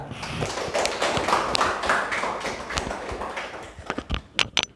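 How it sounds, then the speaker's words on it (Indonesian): Classroom applause for a student, a dense patter of hand claps from a group that fills the room, thinning into a few scattered louder claps at the end. "berikan aplaus untuk Mesira"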